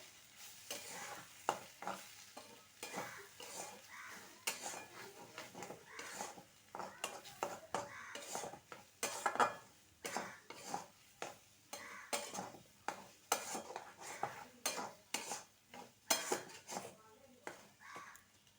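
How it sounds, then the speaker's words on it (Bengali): A grated carrot, cabbage and potato mixture is stirred in a pan, with rhythmic scraping and clinking strokes of a metal utensil over a soft sizzle. "ভালো করে মিশিয়ে নেবো"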